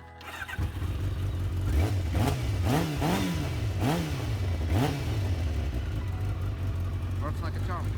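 A motorcycle fresh from an air filter change cranks and catches, then revs up and down in several sharp, rising bursts before settling into a steady idle, close and loud.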